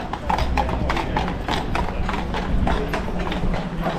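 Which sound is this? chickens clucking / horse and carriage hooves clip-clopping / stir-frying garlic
horse and carriage hooves clip-clopping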